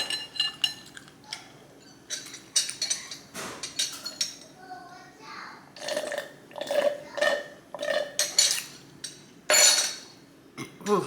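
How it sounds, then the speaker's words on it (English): Soft burps come between bites of Hunan shrimp and broccoli, mixed with close chewing noises and light clinks of cutlery and dishes. "my burps are weak this video"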